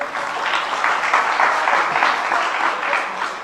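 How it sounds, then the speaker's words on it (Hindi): A congregation at a Jain religious gathering with a monk claps together, a dense, steady wave of applause from a large crowd that swells and holds for several seconds. "जरा तालियां बजा दीजिए।"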